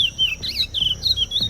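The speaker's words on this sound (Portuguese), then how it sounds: "Esse é o curió, pássaro que vive na Amazônia." Curió, an Amazon songbird, sings a series of high, clear whistled phrases rising and falling in quick succession, close and loud with no voices present.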